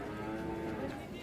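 Cattle at the Ambulu livestock market low in a single drawn-out moo, moderately loud against a constant crowded market murmur, lasting just over a second.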